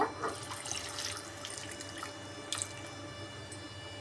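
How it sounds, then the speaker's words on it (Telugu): A little water trickles and drips into a pan of spiced potato curry, a soft, steady pouring sound with a few brighter splashes, close by and without any talk. "ఇప్పుడు మొత్తం మిక్స్ చేసుకొని కొద్దిగా వాటర్ వేసుకుందాము"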